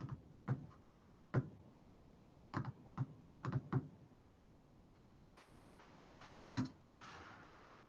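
Sparse, faint clicks of someone typing on a computer keyboard, with single keystrokes and short pairs separated by pauses and no voices.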